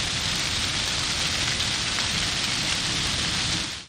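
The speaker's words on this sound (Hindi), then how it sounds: "बरखा खूब जमकर बरसी।" Heavy rain pours down in Lahore, a dense, loud and unbroken hiss of water drumming on surfaces that runs steadily throughout with no voices.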